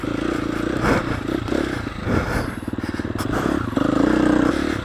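A KTM 350 enduro motorcycle engine drones and revs steadily on an off-road trail, heard close from the rider's position with fluctuating throttle, rattling and clattering over rough ground.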